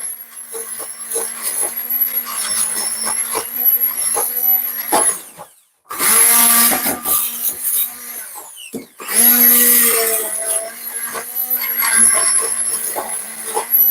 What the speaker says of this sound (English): So I'm using my stick blender this time.